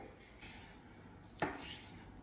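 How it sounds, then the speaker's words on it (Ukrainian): A knife cuts chicken fillet into small pieces, heard as faint, close soft scraping with one sharper knock of the blade against the board midway. "Нарізаємо курочку. В даному випадку у мене філе."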